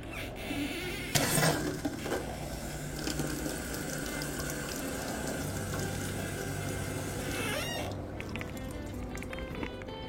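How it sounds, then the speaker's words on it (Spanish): Running water from a tap rinses a metal sample after nital etching, a steady continuous splashing stream with a brief louder splash near the start, heard alone without talk. "Procedemos a lavar con abundante agua."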